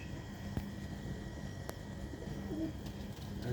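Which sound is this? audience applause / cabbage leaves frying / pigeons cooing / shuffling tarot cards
pigeons cooing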